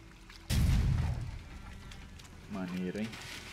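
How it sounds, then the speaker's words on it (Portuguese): A single deep explosion booms out in The Witcher 3, hitting hard and rumbling away over about a second before a voice speaks over quieter game sounds. "Não sabia que o raio de explosão desse negócio aqui era tão grande."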